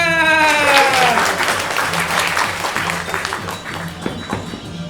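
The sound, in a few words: audience applause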